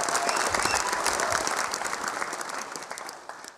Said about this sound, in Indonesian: Tepuk tangan buat Basuki Cahayapurnama.